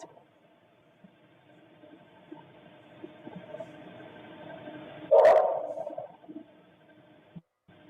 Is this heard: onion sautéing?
no